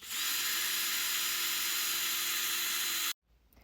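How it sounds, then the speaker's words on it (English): A power drill bores through harbor seal neck vertebra bone with a steady, loud high whine that runs continuously for about three seconds before stopping abruptly. "now to the drilling phase, drilling through the cervical vertebra."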